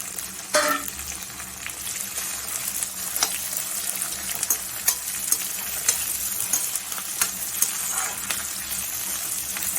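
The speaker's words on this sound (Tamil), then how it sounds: "இது ஒரு 2 நிமிஷம் நல்லா வதங்கணும்." Curry leaves, onion and tomato sautéing in a pan for vatha kuzhambu, a steady close sizzle with an early sharp spatter and periodic clinks and scrapes of a spoon stirring.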